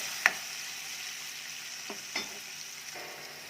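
Tomatoes added to fried onions in a pan, a soft continuous sizzle with a sharp clatter at the start and a few light utensil knocks, quiet and close.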